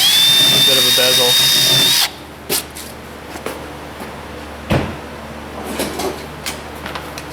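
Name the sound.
drilling with a countersink bit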